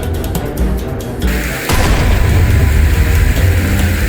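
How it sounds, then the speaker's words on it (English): An aircraft in the GeoFS flight game blows apart: a sudden heavy boom bursts in about midway, giving way to a loud, sustained low roar that fills the rest of the moment. "Then, an explosion happens,"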